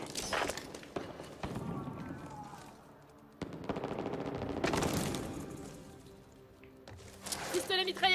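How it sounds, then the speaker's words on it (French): Submachine gun bursts in the zombie shooter Back 4 Blood, rapid rattling volleys in several spurts across the clip, with voices talking over the gunfire and other in-game effects. "Pistolet mitrailleur."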